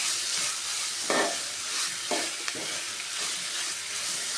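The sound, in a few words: stirring chopped tomato into sizzling prawn roast masala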